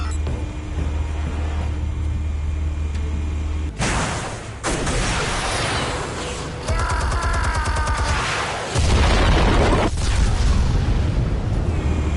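Armed explosives detonate in a PS4 video game, a loud booming blast followed by sustained rumbling and crackling debris over a constant game soundtrack, with further heavy bursts later.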